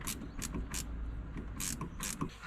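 Water temperature gauge sensor being screwed into a Toyota KE55 Corolla engine, with a series of short, sharp metallic ratcheting clicks coming in irregular bursts over steady low background rumble.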